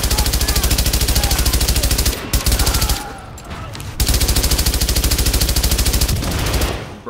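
MG5 machine gun in Tom Clancy's The Division video game firing long, loud sustained bursts of rapid rounds, broken by a couple of short pauses, with the barrage resuming close and dense.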